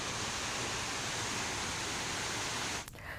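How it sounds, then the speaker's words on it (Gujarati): Water cascading down hillside steps after a heavy downpour, a loud steady broadband rush that continues without pause before dropping off sharply near the end. "ડુંગરના પગથિયા પર કઈ રીતે પાણીનો ધોધ વહી રહ્યો છે તે આપ જોઈ શકો છો"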